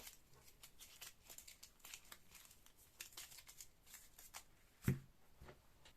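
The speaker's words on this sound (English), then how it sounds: "we shuffle the dungeon deck" Cards from the dungeon deck of the Iron Helm board game are shuffled quietly in a run of crisp riffling bursts, with one sharper tap near the end and no talk.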